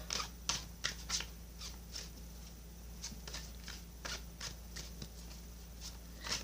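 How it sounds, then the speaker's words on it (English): Soft, quiet tarot card shuffling: a series of brisk riffling and sliding bursts at an uneven rhythm, close by, with no talking. "I'm shuffling for y'all now."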